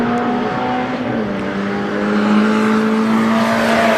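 A drag racing car at a quarter-mile street drag event screams down the strip, its engine a loud, sustained drone with a steady pitch that swells slightly near the end.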